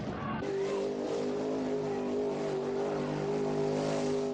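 Bigfoot, the original monster truck, driving through a deep mud bog of dirt and water, a steady loud engine drone holding a constant pitch throughout with no talk over it.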